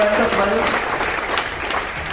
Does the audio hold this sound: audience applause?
yes